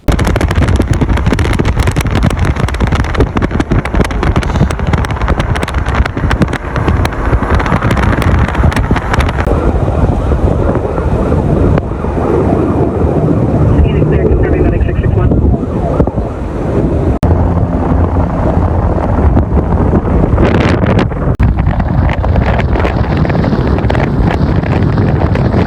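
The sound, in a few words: strong Santa Ana winds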